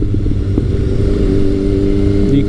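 A Kawasaki ZRX1100 motorcycle being ridden gives a steady, close engine drone with smooth tonal harmonics and a slight rise in pitch near the end, with no talking.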